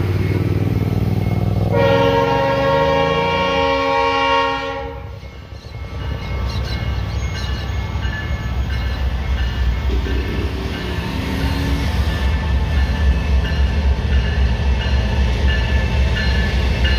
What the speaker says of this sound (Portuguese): Duas locomotivas 10940 BBW, uma locomotiva ES43 BBI e uma U20C.